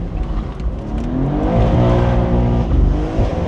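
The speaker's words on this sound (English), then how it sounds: "I'm going to take you for a drive in the M2" A BMW M2 driven hard with its engine revving, a loud, sustained growl from inside the cabin that dips and then climbs in pitch as the car accelerates.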